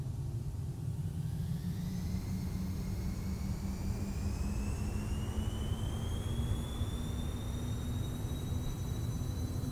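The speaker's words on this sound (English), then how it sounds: "Takeoff power set, man achieved, 2 good engines, airspeed's alive." Twin jet engines of a Citation CJ4 spooling up for takeoff in a flight simulator: a steady loud roar with whining tones that rise gradually in pitch, continuous throughout with no talking.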